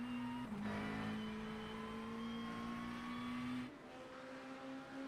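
A McLaren 720 race car in iRacing holds a steady, loud engine drone with clear harmonic whine, shifting pitch once early, then dropping off as it fades into the distance.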